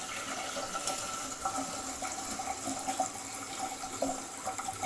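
Hot water poured into a vessel for washing goat tripe, a continuous splashing, trickling pour at moderate level, steady throughout with no talking.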